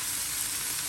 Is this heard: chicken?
yes